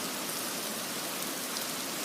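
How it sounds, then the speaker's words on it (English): Heavy rain pours down steadily in Sharm el-Sheikh, Egypt, during a rare March downpour, a dense, even hiss of drops beating on surfaces close by and continuing throughout with no voices. "Here we are in Sharm el-Sheikh at the great rains of March"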